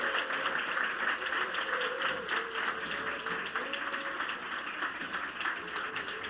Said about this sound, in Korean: 우리 다시 한번 뜨거운 박수